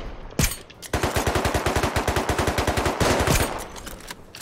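Automatic gunfire in the survival game Rust: a single loud shot, then a long rapid burst of evenly spaced rounds close by, a brief pause and a second short burst, with no talk over it.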